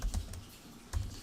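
Computer keyboard typed on at a Windows command prompt, a few quick quiet key clicks in two short bursts with a pause between, close and alone.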